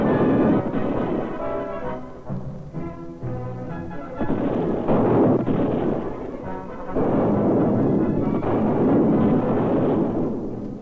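Field artillery guns firing during combined exercises with tanks, heavy booming blasts and rumbling reports that roll continuously and loudly.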